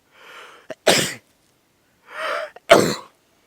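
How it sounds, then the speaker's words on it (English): Two loud sneezes close to the mic, each with a breathy wind-up inhale before a sharp burst, with a pause between them. "try not to sneeze, because I think I'm about to sneeze"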